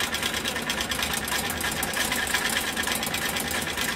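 An electrified Hobbies A1 treadle fret saw runs steadily up close, giving a dense, even mechanical whir with a fast, regular chatter of the blade and drive throughout.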